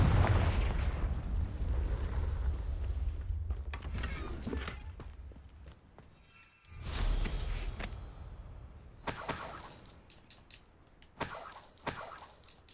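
Confringo explosive spell blasts in Hogwarts Legacy, sharp cracking impacts and booming bursts scattered through the scene alongside creaking mechanical effects, loud and close.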